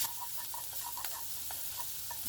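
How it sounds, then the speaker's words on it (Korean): Garlic sizzles and crackles in hot oil, with soft stirring scrapes and a few small pops over a steady hiss, close up. "우선 마늘을 기름에 볶아주세요"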